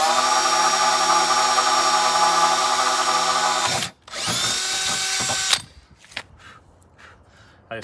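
A power drill bores a hole in a compressor part of an Emerson Quiet Kool air conditioner, whining loud and steady, stopping for a moment, then spinning up again before it winds down to faint handling clicks.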